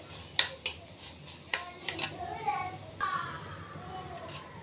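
Onions and chillies are stirred in a frying pan, with spoon scrapes and clinks against the metal over a soft sizzle. A few sharp taps stand out near the start, and faint voices are heard in the background.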